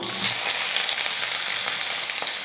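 Mustard seeds and onion frying in hot oil in a kadai, a loud, close, unbroken sizzle with faint crackles throughout.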